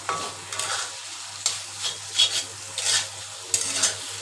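Hand-shredded chicken meat fries in a pan for a spicy dry fry, with a soft sizzle beneath repeated scraping stirs that come in uneven strokes about every half second.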